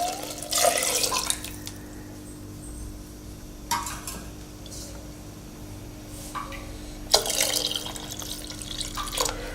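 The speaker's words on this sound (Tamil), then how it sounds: "இனி இதுக்கு தேவையான தண்ணி ஊற்றிக்கலாங்க." Water poured into a pot of Tamil rasam in a home kitchen, three separate splashing pours with quieter trickles and pauses between them, heard close and alone.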